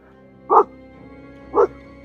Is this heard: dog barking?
yes